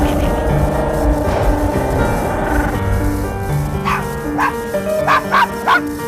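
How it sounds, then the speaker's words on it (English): A dog barks and yips several times in short sharp bursts toward the end, loud and close, over a continuous bed of background music. "Come here, dog."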